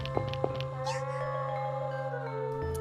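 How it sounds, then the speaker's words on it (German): A cat in the horror video game Amayado Bus Stop gives a short meow over a sustained droning in-game ambience, preceded by a couple of soft footstep-like taps, with no talking. "Eine Katze."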